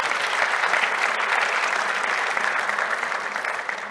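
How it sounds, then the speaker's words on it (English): Steady, dense applause from a conference audience at an investment event fills the whole stretch, loud and even, easing slightly toward the end with no talk over it. "Another round of applause for the Deputy CEO."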